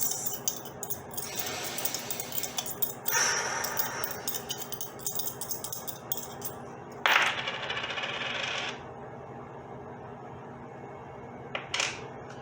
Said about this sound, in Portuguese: pensar numa pergunta que você queira para o jogo das moedas